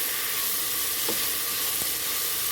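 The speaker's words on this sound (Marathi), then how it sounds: "मी वटाणा आणि बटाटा ते पण तेलावर जरा परतून घेते सर्व छान हलवून घ्यायचे" Peas and potatoes frying in oil in a pan, giving a loud, steady, close sizzle with a brief stirring scrape partway through.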